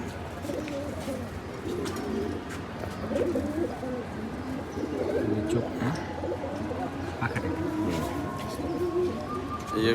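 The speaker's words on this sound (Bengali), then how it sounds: "এটা হলো ফিটকি ফিটকি লাইনের কবুতর" A fitki-line tournament pigeon cooing with low, soft rolling coos, close by and fairly quiet, while people talk over it.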